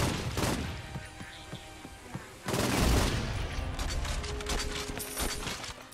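Gunfire in Saints Row: Gat Out of Hell, a dense run of rapid shots in bursts with a heavier, louder volley midway, plus mechanical clicks, close and with no talking.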